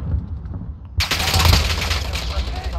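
Rapid automatic gunfire in Call of Duty Modern Warfare hardcore team deathmatch on Arklov Peak, a quiet low rumble that breaks into loud, dense bursts of shots striking the player and continuing to the end.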